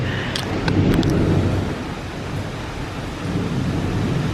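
Strong wind roars and buffets steadily, a dense low rumble with gusts swelling and easing, and no voices.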